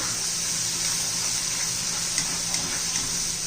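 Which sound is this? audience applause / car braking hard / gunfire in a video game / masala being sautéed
masala being sautéed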